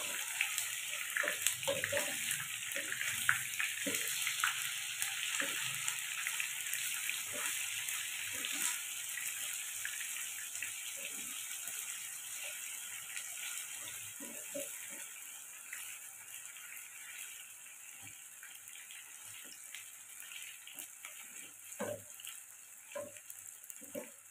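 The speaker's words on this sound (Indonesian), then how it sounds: "Masukkan di minyak yang panas semuanya kita goreng tahunya sampai warna kulitnya itu kecoklatan" Tofu frying in hot oil until the skin turns golden brown, a steady soft bubbling hiss with scattered small pops and crackles continuing throughout, no voices.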